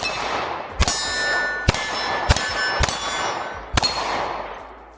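Five sharp, loud shots from a Springfield Hellcat Pro Comp pistol with compensator ring out at uneven intervals, each with a bright metallic crack and a ringing decay, fired close by.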